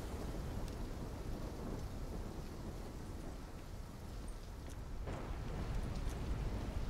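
Thunderstorm in the Call of Duty Black Ops 3 campaign: steady heavy rain with a continuous low thunder rumble throughout, and a brighter thunder crack swelling near the end.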